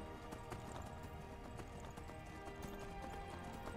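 Horse hooves clip-clop steadily from the video game Skyrim, a rapid, even trot of hoofbeats with a faint whinny, heard alone over a constant game backdrop.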